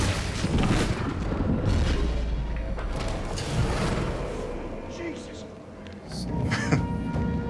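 In the Unknown 9: Awakening video game, fire and electricity blast near an oil lamp, a deep booming rumble with thuds and crackling bursts, loud and sustained beneath voices talking.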